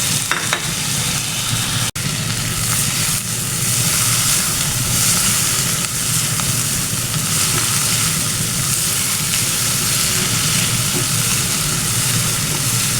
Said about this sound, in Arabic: تاخد تشويحه بس الطماطم